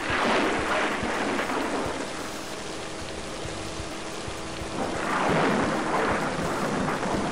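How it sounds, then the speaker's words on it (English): Rain hisses steadily in the PC game Driver, with two loud rolling thunder swells, one at the start and one near the end. "As if rain wasn't bad enough, now there's lightning and thunder too,"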